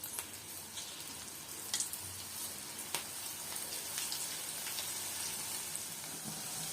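Small pieces of batter frying in hot oil for suneribendi, giving a steady, dense sizzle with scattered crackles and pops throughout.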